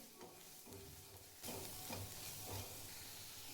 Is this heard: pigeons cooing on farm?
no